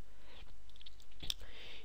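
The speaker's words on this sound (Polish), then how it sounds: "klikamy prawym przyciskiem myszki na link, kopiuj" A computer mouse button gives a single sharp, quiet click near the end of an otherwise hushed moment, with faint room noise around it.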